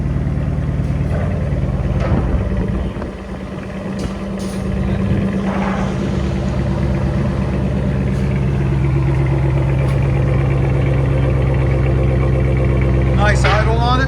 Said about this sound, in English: Nice idle on it. There's the idle on it.